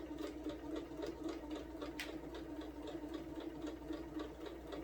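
A sewing machine runs steadily, stitching the seams of a quilted placemat at a slightly quickened pace, its rapid needle rhythm continuous and close throughout.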